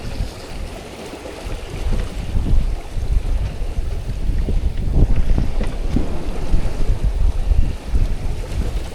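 A sailboat under sail steered by a wind vane, with strong wind buffeting the microphone over a constant rushing of water along the hull, loud and unbroken throughout with no talk.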